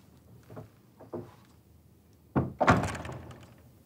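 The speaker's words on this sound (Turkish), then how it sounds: "Kapatın kapıyı." A palace door in a period Ottoman drama swings shut with a heavy wooden thud and rattle, preceded by a few faint footstep-like knocks, close and fairly loud with a short fading tail.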